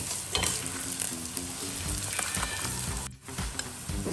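Spices and dried chillies temper in hot oil for drumstick-leaf sambar, giving a loud, close, continuous sizzle and crackle with stirring clinks and no voices.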